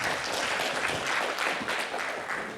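Lecture audience applauding, a dense and steady patter of many hands clapping at close range, sustained throughout without pause.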